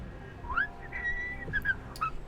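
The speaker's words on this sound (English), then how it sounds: "Who's whistling? No whistling!" Someone whistles in the video game Hardspace: Shipbreaker: several short, rising and falling tonal notes spread over a couple of seconds against a steady ambient hum, clear and moderately loud.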